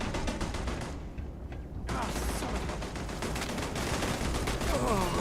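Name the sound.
gunfire at a turret, from video game Starfield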